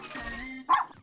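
A cartoon robot dog gives a single short, sharp bark right after a brief voiced sound, close and clear.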